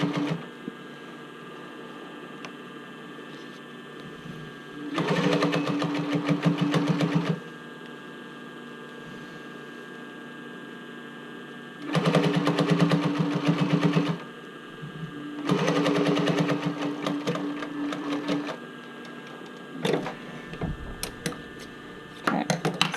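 A sewing machine stitches the band onto a swimwear bra-cup top, running in three separate bursts of steady, rapid stitching, each a few seconds long, with quiet pauses between them.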